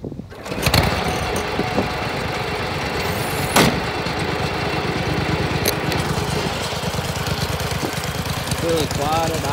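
A Murray mud mower engine, pull-started with its governor intact, idles with a steady, loud chugging rumble that stays even and close throughout.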